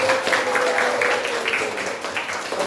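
Classroom applause in a vocational high school Indonesian lesson, a moderately loud wash of clapping with a sustained tone running underneath throughout.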